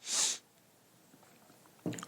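Someone with a cold sniffles. A sharp, close snuffle comes first, then a quiet pause, then another short sniff at the end.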